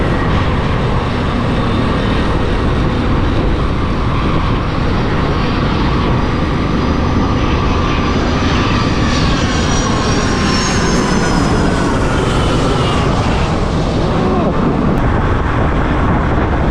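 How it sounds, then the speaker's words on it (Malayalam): A low-flying airplane on its approach to land at an airport roars overhead, a loud continuous rumble and whine that swells and holds for many seconds. "എയർപോർട്ടിലേക്കുള്ള ലാൻഡ് ചെയ്യാനുള്ള ഫ്ലൈറ്റ് ആണ് കേട്ടോ"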